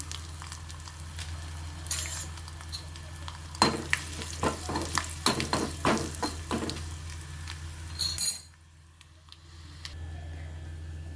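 Garlic, curry leaves and asafoetida hit hot oil in a tempering with a steady sizzle and a run of sharp crackles and pops, then the sound drops suddenly to a low, quiet hiss.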